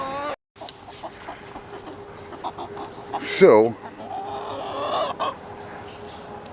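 A newly rescued rooster clucks and crows in short bursts, one louder rising call standing out mid-clip, with soft talk and rustling around it.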